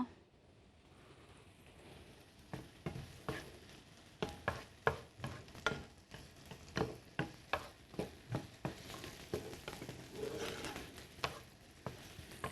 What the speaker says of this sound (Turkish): Güzelce şimdi soğanım koteleniyor.